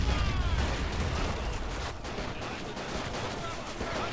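Sniper rifles crack amid dense battlefield gunfire in the war game Battle of Empires, a continuous roar of overlapping shots and explosions with no clear gaps.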